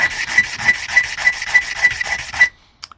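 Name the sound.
sanding block rubbing on RC chassis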